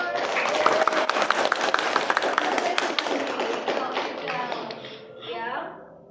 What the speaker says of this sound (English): give applause to her